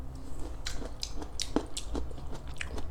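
Crunchy bites and wet chewing of pickled carrots and jalapeno slices, close to the mic, with several sharp crisp bites spread across a few seconds over a low background hum.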